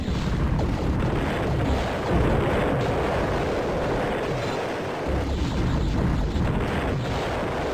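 Spaceship weapons fire continuously in Escape Velocity Nova, a dense, loud barrage of booming shots and blasts that keeps up evenly throughout.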